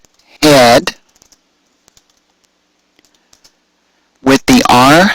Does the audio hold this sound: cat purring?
no